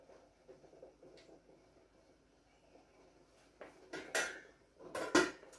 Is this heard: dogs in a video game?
no